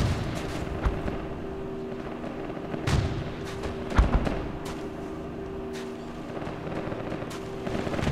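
Gunfire in the Project Reality video game during a counter-insurgency battle in Fallujah, scattered distant shots and heavier booms popping sporadically over a steady droning background.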